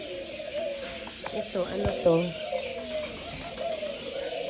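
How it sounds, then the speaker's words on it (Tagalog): Birds cooing like pigeons or doves at an outdoor zoo park in Barka, Oman, a few soft coos under nearby conversation and light background noise. "Ibon, pero hindi ko kilala."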